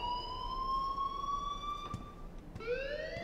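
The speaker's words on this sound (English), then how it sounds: "please turn off that alarm since that's your job." A school alarm rings in the Life Is Strange video game, a steady electronic tone held for about two seconds, then cut and restarted with a rising pitch, faint with background hiss.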